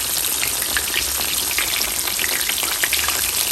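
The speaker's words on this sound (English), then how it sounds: "Fry it on one side for about 3 minutes, then flip that bad baby over." Basa fish fillet frying in a pan of oil, a steady close crackling sizzle with dense spitting pops throughout, no voices.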